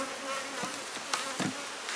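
Steady, dense buzzing of honey bees swarming around a hive during beekeeping work, a continuous droning hum with individual bees passing close now and then, no talking.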